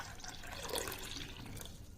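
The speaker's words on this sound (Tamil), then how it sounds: "இதில் தண்ணி மிக்ஸ் பண்ணிக்கலாம்." Water is poured into a small amount of fresh amla (gooseberry) juice, a soft, faint splashing trickle lasting a couple of seconds.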